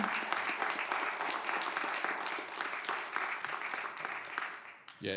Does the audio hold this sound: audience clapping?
yes